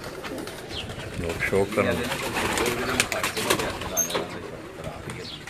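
Pigeons cooing on a rooftop in Gujrat, Pakistan, soft repeated coos close by under people talking, with a few sharp chirps.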